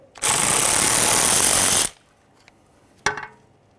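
A 10mm mounting bolt being backed out on a 2009-2014 Nissan Maxima during rear ABS wheel speed sensor removal, with a loud buzzing burst from a power ratchet lasting under two seconds, then quiet and a single sharp metallic clink.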